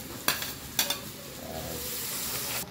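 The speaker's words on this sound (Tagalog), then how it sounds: "gisa na rin natin ng bawang dito" Garlic sautés in a pan for chicken sopas, opening with two sharp clanks of a utensil against the pan, then a soft, steady sizzle close by with no talking.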